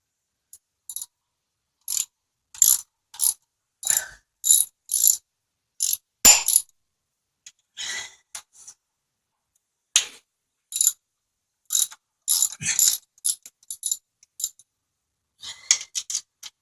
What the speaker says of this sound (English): I'm going to start with all the 10mm bolts first.